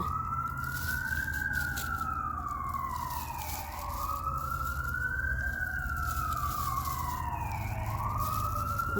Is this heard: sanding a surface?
no